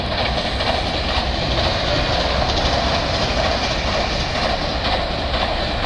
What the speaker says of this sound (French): C'était sûr, encore un TGV.